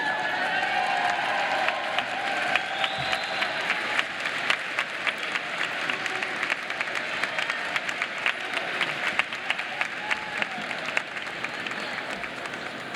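Sustained applause from a large crowd honoring graduates at a winter university commencement ceremony, steady dense clapping with scattered cheers and whoops throughout, loud and continuous.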